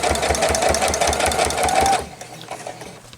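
A sewing machine stitches through a thick stack of quilt block layers, a loud steady rapid needle rhythm running for about two seconds before cutting off to quiet room tone.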